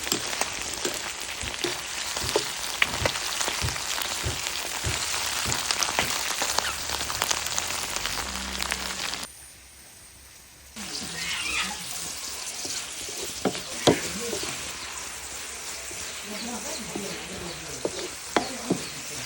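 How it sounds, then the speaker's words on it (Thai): Bamboo worms deep-fry in hot oil until crispy, making a loud, dense, rain-like crackle with sharp pops that cuts out briefly midway and then resumes. "เดี๋ยวทอด รสด่วนให้ให้กรอบก่อนนะคะ"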